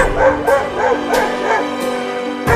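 A dog barks and yips in a cartoon chase, a quick run of close repeated barks over a steady background hum.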